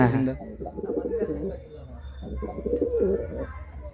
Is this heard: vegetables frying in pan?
no